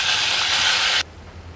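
Tomatoes hitting a hot pan of fried garlic and dried red chili for thoothuvalai rasam give a loud, dense sizzle that cuts off abruptly after about a second, leaving a faint hiss.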